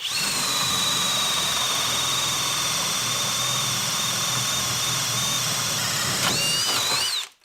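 A Kobalt brushless hammer drill whines steadily and loudly at full speed while boring a 1 1/8 inch hole through wood, holding an even pitch for several seconds before spinning down abruptly.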